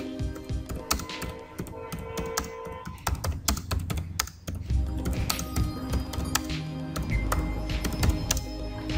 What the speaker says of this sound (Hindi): लेख लिखने के लिए हम अपना शीर्षक दर्ज करेंगे